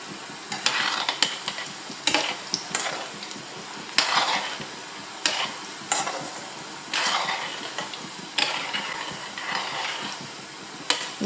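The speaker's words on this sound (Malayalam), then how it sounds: "ഇങ്ങനെ ഇത് നമുക്കൊന്ന് ഫ്രൈ ചെയ്തെടുക്കാം." Wheat flour snack balls bubble and hiss steadily in hot oil while a utensil stirs them, with repeated scraping bursts every second or so over the continuous close sizzle.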